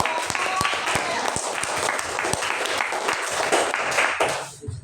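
A classroom group claps for a student group's presentation, with distinct individual hand claps standing out in a lively, uneven patter that continues before stopping abruptly at the end.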